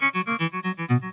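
Electric guitar phrase, a quick run of about ten evenly spaced notes with soft, swelling attacks and a processed, echoing tone, close and alone without talk.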